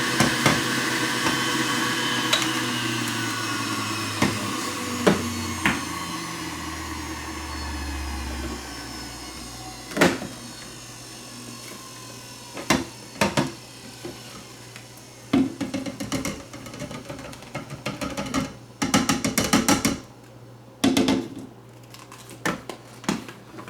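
A worn, leaking juicer runs with a steady motor whine and low hum, broken by repeated sharp knocks and clattering bursts as produce is fed in, growing more frequent toward the end.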